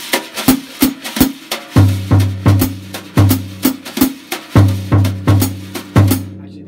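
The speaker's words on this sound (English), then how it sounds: "the eighth notes are being played on the bass drum along with my brush stroke" A drum kit is played with brushes, with bass drum thumps on the eighth notes and brush strokes and hi-hat hits in a steady, syncopated jazz comping pattern, loud and close.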